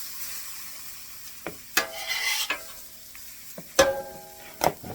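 Cooked mushrooms being scraped off a Vevor flat-top griddle into a bowl, with a soft sizzle under several sharp metallic scrapes and clacks spaced a second or so apart, close and alone.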